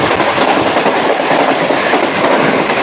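An express train passes on rails in Pakistan, a loud, close, continuous roar with rhythmic clickety-clack of wheels, no voices over it.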